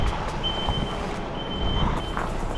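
An HGV truck reverses with its backup alarm beeping in short, evenly spaced tones over a low engine rumble, moderately close.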